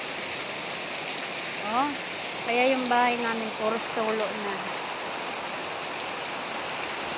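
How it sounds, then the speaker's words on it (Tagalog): Heavy rain in Malanday, Marikina pours down as a steady, loud hiss throughout, while a person speaks briefly over it. "Grabe yung lakas dito ng ulan sa Marikina."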